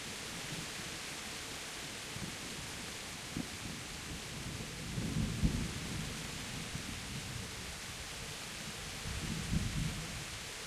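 Heavy downpour in Kingdom Come: Deliverance, a constant hiss of rain with low thunder rumbling twice in the distance.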